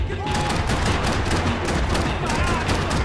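Sustained, loud gunfire from the video game Max Payne 3, a dense fusillade of shots with no break, under a steady wash of in-game noise.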